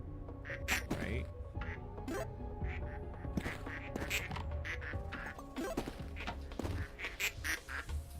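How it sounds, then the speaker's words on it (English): Cartoonish duck quacks from a video game, repeated in bursts over a busy mix of game effects and thuds, with a person talking throughout. "I really need to do is just clean up these ducks."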